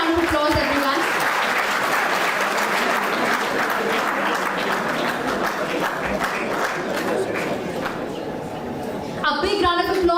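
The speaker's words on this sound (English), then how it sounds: "Big round of applause, everyone." An audience at a formal ceremony welcoming a chief guest gives a sustained round of clapping that stays dense and even throughout, with a speaker's voice heard over it near the start and again at the end.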